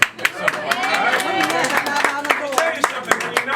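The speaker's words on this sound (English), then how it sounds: "Clap your hands if we met because I knocked on your door." Audience at a Kansas City campaign rally for a Missouri U.S. Senate candidate claps in scattered, uneven bursts of hand claps, with a voice talking over it throughout.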